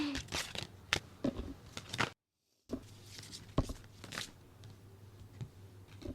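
Tarot cards shuffled by hand in a run of soft, rapid riffling and crunchy flicks, close and quiet, broken by a brief total silence partway through, with no voices.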